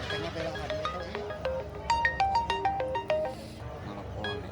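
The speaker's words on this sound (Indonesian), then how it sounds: "Telepon." A telephone ringtone plays a melodic run of bright electronic tones in a quick rising and falling pattern, moderately loud indoors over a low background hum.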